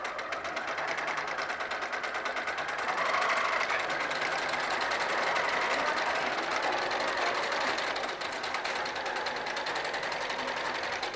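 A sewing machine runs steadily on a garment being taken in at the crotch, a continuous fast mechanical whir that holds an even, fairly loud level throughout with no voices.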